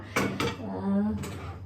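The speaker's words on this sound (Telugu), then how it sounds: "నా దగ్గర గిన్నె ఉన్నది ఒకటి పెట్టుకుంటున్నా" A metal cooking pot set down on a kitchen stove gives three sharp clanks, two close together near the start and one a moment later, with a brief voice between them.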